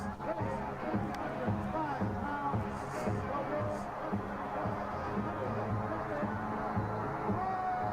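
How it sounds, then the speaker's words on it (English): Capacity crowd at a wrestling event in the Spectrum arena around Roddy Piper and Hulk Hogan, a dense, steady roar of voices and babble filling the hall at a constant level, with faint music underneath. "Listen to the crowd."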